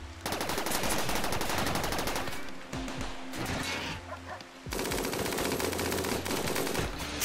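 A minigun fires in RimWorld, long dense bursts of rapid gunfire in two sustained streams with a short gap between them, loud and close.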